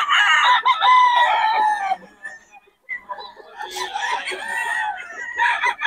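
Stag roosters on a farm crow loudly and cluck close by in overlapping calls, with a short pause midway, while someone talks over them.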